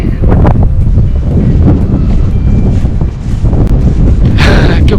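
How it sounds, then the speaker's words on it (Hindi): Strong cold wind gusting in the Nuria valley, Spain, amid light drizzle, buffeting the microphone with loud, continuous rumbling and a sharper gust near the end. "तेज़ ठंडी हवा चल रही है और हल्की हल्की फुहार पड़ रही है मुसलसल बारिश की।"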